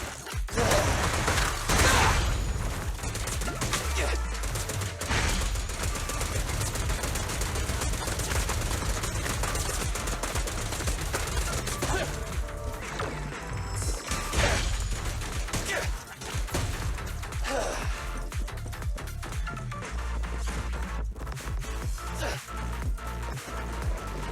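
Rapid video-game gunfire from Zenless Zone Zero, dense bursts of shots layered with music and effects, loud and continuous throughout with brief voice lines in the mix.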